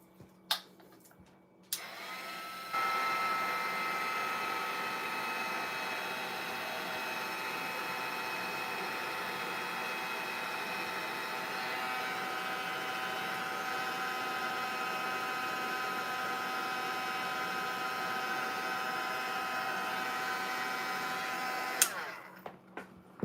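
A dryer blows on wet watercolor paint, giving a steady, even whir that switches on abruptly, holds unchanged for about twenty seconds and then cuts off.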